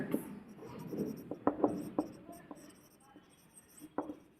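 Pen scratching across paper as figures are written out, a run of short close strokes and taps with brief gaps between them.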